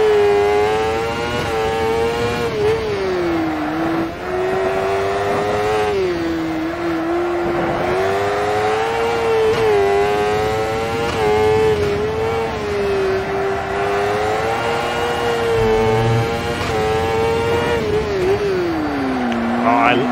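A crosskart's small, high-revving engine screams through a racing lap, its pitch climbing and dropping with each shift and corner, loud and close throughout.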